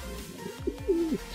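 Domestic pigeons cooing inside a breeding loft, a soft low rolling coo rising and swelling near the end, with a brief earlier coo, close and fairly quiet against a faint background.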